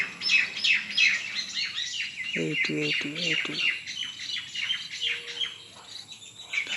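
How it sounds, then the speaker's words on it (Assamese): Small birds in a backyard tree chirp in quick, bright bursts, moderately near, while someone speaks briefly and other short calls sound at intervals. "চৰাই দুটা এতিয়াও আছে"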